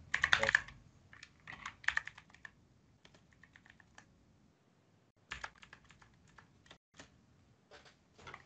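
Text being typed on a computer keyboard while naming a schematic in KiCad, quiet close-up key clicks coming in short bursts with brief pauses, no talking.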